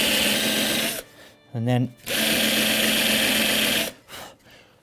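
A power drill countersinks screw holes in the timber of a child's wooden chair, whirring loudly for two long bursts with a short pause between, as a voice speaks briefly in the gap.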